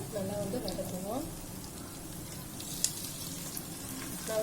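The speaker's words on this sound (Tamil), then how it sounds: "தக்காளி சேர்த்து நல்லா வந்து வதக்கணும்" Tomatoes sauté in a pan for mutton biryani with a soft, steady sizzle. A voice is heard briefly at the start, and a faint clink comes partway through.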